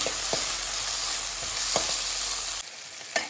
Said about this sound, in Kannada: ಒಂದು ಟೀ ಸ್ಪೂನಷ್ಟು ಶುಂಠಿ ಬೆಳ್ಳುಳ್ಳಿ ಪೇಸ್ಟು ಇದನ್ನು ಹಾಕಿ ಸ್ವಲ್ಪ ಮತ್ತೆ ಫ್ರೈ ಮಾಡ್ಕೊಳ್ತೇನೆ